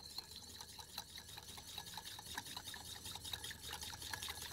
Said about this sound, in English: we're going to whisk some Portuguese olive oil in here